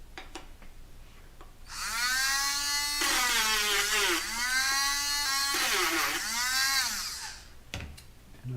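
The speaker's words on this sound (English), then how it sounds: "Just sanding the inside of some of these centering rings for the adapter tube." Power sander working the inside of high-power rocket centering rings for an adapter tube: a steady high-pitched whine with shifting tone runs for about six seconds, rising and dipping as pressure changes, then stops.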